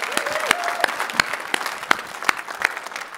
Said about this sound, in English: You can applaud a little bit more vigorously